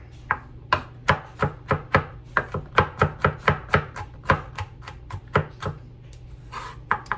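A knife minces onion on a cutting board, a close run of about twenty sharp, evenly spaced chops that slows and thins out toward the end, with no talking.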